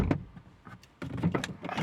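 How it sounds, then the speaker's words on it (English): A car door opens up close during a car alarm installation, with mechanical clicks and a latch clunk, followed by a burst of rustling handling noise. "You see, I open the door,"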